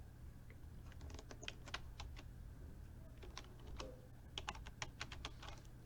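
Keys tapped on a computer keyboard while entering names into an Excel spreadsheet, a quiet, uneven run of light clicks in two short bursts over a steady low hum.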